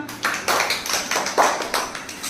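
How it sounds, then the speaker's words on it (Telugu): Children clap their hands in a classroom after a maths activity, a quick irregular patter of about a dozen claps, close and lively, with no voices. "క్లాప్స్ కొట్టండి అమ్మా"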